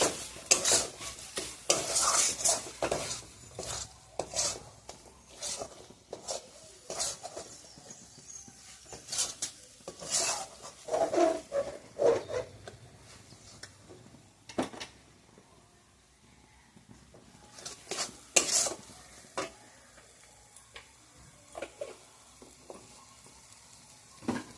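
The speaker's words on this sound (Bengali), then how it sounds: "মশলার সাথে আরেকটু কষে নিয়ে তারপরে মাংসটা এর মধ্যে দিয়ে দেবো।" Spices sizzle in a pan for chicken curry while a spoon scrapes and stirs in irregular bursts, with clinks of metal on the pan between quieter stretches of soft frying.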